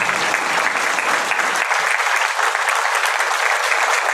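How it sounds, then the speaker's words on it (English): A room full of people at a county Board of Supervisors meeting claps steadily for several seconds, a dense and fairly loud round of applause with no talking over it. "give them a big round of applause"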